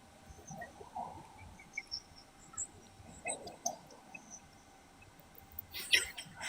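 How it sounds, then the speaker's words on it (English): Crickets chirping as a sound effect, sparse high chirps scattered over a quiet background with faint low rustling, fairly soft and without talk. "Silence. Literally crickets."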